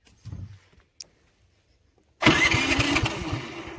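A Predator portable generator, suspected dead, cranks after some faint clicks and handling noises, then catches and runs with a loud, steady mid-pitched engine drone that continues to the end.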